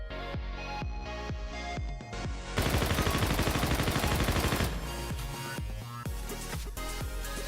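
HVR sniper rifle from Call of Duty Infinite Warfare, bare with no attachments, firing sharp single shots in a slow steady rhythm, followed by a dense rapid burst of gunfire before single shots resume; loud and close, no talking.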